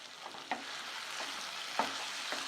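Mutton pepper fry with coriander and curry leaves is stirred and mixed in a hot pan, giving a low, steady sizzle broken by several soft scraping strokes of the spoon and no talking.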